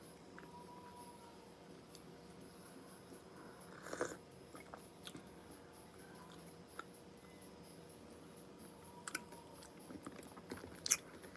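Quiet, close chewing of breakfast food, with soft intermittent crunches and mouth clicks spread through a hushed room.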